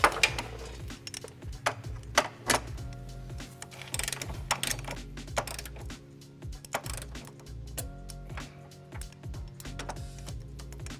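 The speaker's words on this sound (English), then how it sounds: "we're going to go ahead and torque them down. I'm using a torque wrench with a 5-inch extension and a 17mm socket." Ratcheting torque wrench with a 5-inch extension and 17mm socket tightening trailer hitch bolts on a 2008 Hyundai Tucson, giving repeated close mechanical clicks and ratchet sweeps with some clanking from the tools.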